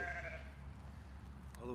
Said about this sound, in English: Hey, sheep, go get some grass.